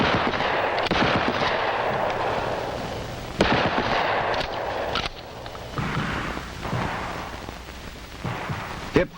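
Repeated shotgun blasts on a training range, sharp loud reports spaced irregularly across the stretch, each with a ringing decay, over steady outdoor background noise.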